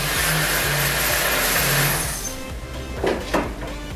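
A Toyota ZZ-FE engine runs steadily right after a starter repair, a loud, close, continuous idle that dips slightly partway through, with a couple of brief clunks near the end.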